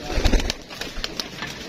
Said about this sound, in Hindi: ये दोस्तों कबूतरी हमने पकड़ी है।